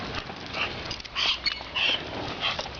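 Sled dogs at a dog sledding outing yipping and whimpering in short high bursts, fairly close, over steady outdoor noise with a faint voice.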